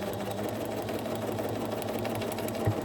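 Steady close whirring and rattling of a sewing machine stitching a quilt block, running continuously at an even pace with no talk.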